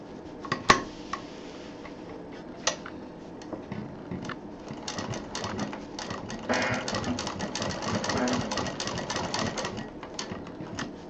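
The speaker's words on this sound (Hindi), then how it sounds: "फूल का घुमाव है वैसे वैसे चाप उठा उठा के मशीन चलानी है।" A sewing machine stitches a quilt at tension setting 5, running in a fast continuous clatter after a few sharp knocks and short starts, close and loud with no talk.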